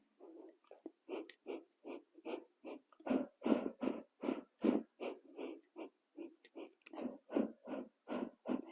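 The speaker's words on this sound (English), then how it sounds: "Now we're going to inhale for 5 and exhale for 5." Slow, steady breathing during a swimming-style mobility exercise, with around twenty close, wheezy inhales and exhales in an even rhythm and no talking.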